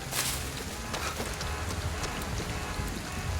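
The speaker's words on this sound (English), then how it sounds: "the sound of the rain falling" Steady rain in the video game Ghostwire: Tokyo patters down across a surface, a dense hiss with scattered sharper drops, continuous and fairly close, with no voices.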